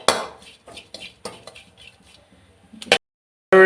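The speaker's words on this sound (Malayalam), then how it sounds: "അപ്പോൾ നമ്മൾ തേങ്ങയും കാര്യങ്ങളൊക്കെ ഇളക്കി കൊടുത്ത് നല്ലപോലെ മൂപ്പിച്ചെടുക്കുകയാണ്" Grated coconut and crushed shallots are stirred and roasted in a pan, with a utensil scraping and clinking against the metal in uneven strokes, close by, then a short pause and a loud clatter.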